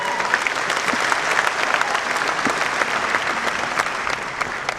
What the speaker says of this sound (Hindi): मैं चाहता हूं उनके लिए एक जोरदार ताली बजाएं।